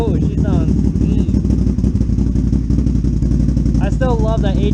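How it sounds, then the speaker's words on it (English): A motorcycle with an HMF Performance exhaust idles loudly and steadily nearby, a deep pulsing rumble, while a person talks over the engine. "I still love that HMF Performance exhaust."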